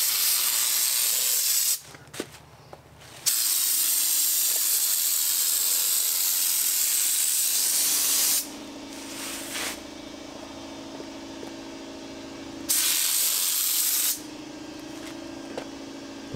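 Spray gun applies Raptor Liner bedliner coating onto a camper van, a loud steady hiss in long bursts broken by short pauses with quieter background between passes.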